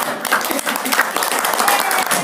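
Loud, close, evenly sustained clapping comes from the audience at an Islamic study gathering with a shared fast-breaking meal, a continuous rattle of many hands without pause.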